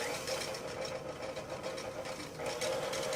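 An electric mixer hums steadily at reduced speed while beating meringue for a maple crêpe soufflé, a continuous whirring drone with a slight rise in intensity toward the end.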